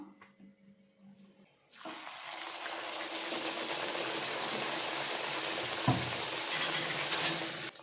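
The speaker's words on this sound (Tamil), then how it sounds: "இதை அப்படியே எண்ணெயில் போட்டுடலாம்" Round, cut pieces of dough drop into hot oil after a quiet moment. A loud, broad frying sizzle bursts up at once and holds steady, with a faint bubbling pop near the end and no voices.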